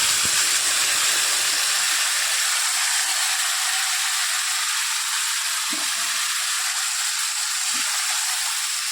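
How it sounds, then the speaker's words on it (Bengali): Marinated chicken sizzles in a pan of fried onions, giving a steady, loud, even hiss that continues throughout, with a few faint clinks in the background. "এবারে আমি ম্যারিনেট করা চিকেনটা এটার মধ্যে দিয়ে দিলাম।"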